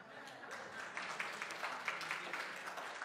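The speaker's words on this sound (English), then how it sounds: "They clapped in the first service too." Church congregation applauding during a sermon, a soft, steady wash of many hands clapping at a distance, faint and even throughout.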